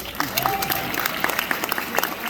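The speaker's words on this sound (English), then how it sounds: "You guys are just so polite that you clap for whatever nonsense I say" An audience at a fan convention claps in a sustained burst of applause, dense overlapping hand claps with a few louder individual claps standing out, and some talking faintly beneath.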